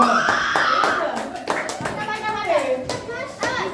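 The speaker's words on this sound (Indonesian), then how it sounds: "Tepuk tangan untuk kelompok 2." A fifth-grade class claps for a group after their history drama, loose irregular claps close by, mixed with lively children's chatter and an adult voice talking over it.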